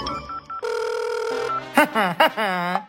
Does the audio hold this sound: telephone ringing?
yes